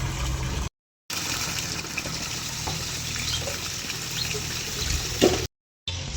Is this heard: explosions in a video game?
no